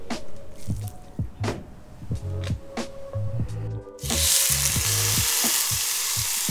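Loud, steady sizzling of a pork roast hitting hot fat in a Dutch oven, with a burst of stronger hiss partway through and occasional clinks and low voiced sounds underneath.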